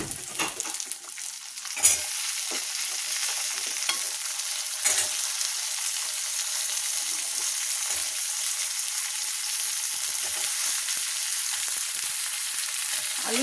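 Potato pieces frying in hot oil with ginger sizzle continuously up close, broken by a few scraping stirs of a spatula against the pan.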